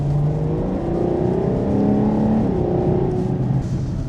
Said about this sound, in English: The sound and the driving characteristics of that naturally aspirated V12 from the Ferrari 812